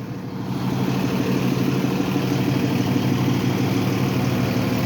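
A Spear-built Boston fire engine, Engine 53, idles at a structure fire on Paine Street with a steady, close diesel rumble that holds evenly throughout, and no voices are heard.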